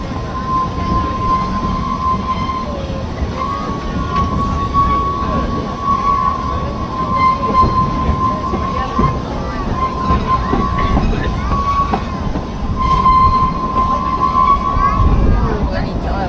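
The Excelsior steam train rolls along the Whipsnade railway at a steady close rumble, with a sustained high wheel squeal running throughout and a commentator's voice heard over the noise.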